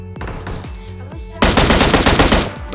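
Automatic M16 rifle fire in the mobile battle-royale game PUBG Mobile: a few spaced single shots, then a loud rapid burst of continuous gunfire, close and alone without talk.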